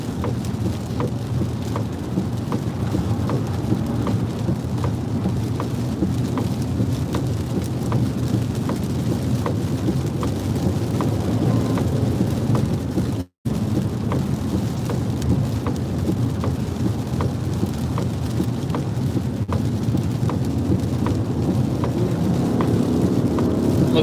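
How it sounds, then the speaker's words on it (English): Steady, heavy rain pours down continuously during a flash flood in Kentucky, a dense broadband hiss with a brief dropout midway and a low rumble underneath. "Heavy rain continues."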